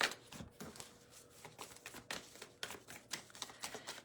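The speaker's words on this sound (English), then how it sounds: "Give these cards a good shuffle" Rapid papery riffling and flapping of cards in short bursts, close by, with a few sharper clicks; no talking.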